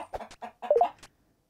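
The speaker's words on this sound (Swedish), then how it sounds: "Nej, en kyckling har fastnat inuti två stenar." A video game chicken stuck inside two rocks clucks in a few short, close, clipped bursts, then falls silent.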